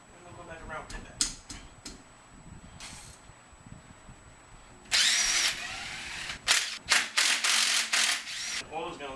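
A ratchet works bolts loose on a Honda F23 engine block during a teardown, giving bursts of rapid clicking and clattering with some quiet handling noise between them.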